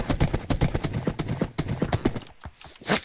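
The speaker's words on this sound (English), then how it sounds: "Just put a horse on lead." Horse hooves clip-clop in Minecraft, a quick run of crisp, evenly spaced knocks up close, followed by a short whinny-like sound at the end.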